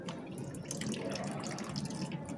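Yellow liquid poured steadily into a container of water, making a continuous close splashing and trickling wash with no break and no voices.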